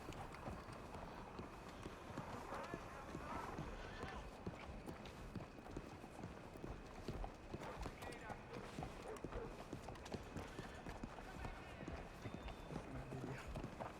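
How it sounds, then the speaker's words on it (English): Horse hooves clip-clop in a Wild West video game set in Saint Denis, a steady, moderately close trot running through the whole stretch under a busy game soundscape and ongoing speech. "Oh, nice little horsey."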